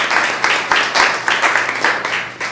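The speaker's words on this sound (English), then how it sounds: "another round of applause for her." Audience applause for a woman on a body language show, with a room of people clapping in loose overlapping bursts, rising and dipping in quick waves at close range for a couple of seconds.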